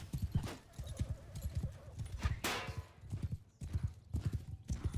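Horses gallop in Mount & Blade 2 Bannerlord, with close, rhythmic clip-clop hoofbeats in repeated bursts and a brief whinny partway through.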